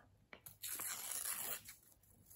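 Faint, close paper sound: a couple of soft snips, then a second-long rasping cut or tear through paper, fading into quiet.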